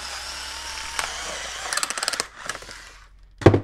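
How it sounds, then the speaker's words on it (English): A cutting tool snips and slices through stiff clamshell plastic packaging up close, giving a quick burst of crackling cuts followed by a sharp final snap, with no talking. "it cuts right through the Warrior packaging"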